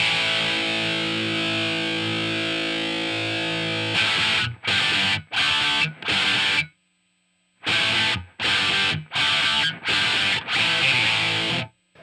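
A distorted electric guitar plays a riff through an amp in a room. A sustained opening chord rings out, then chopped, rhythmic bursts of loud crunchy chords are separated by short silences and one longer gap.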